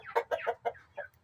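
Chickens cluck near a hen house in a quick run of about five short, clipped calls, moderately loud and close, with no talk.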